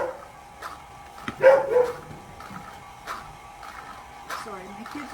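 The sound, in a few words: dog barking at people coming in back gate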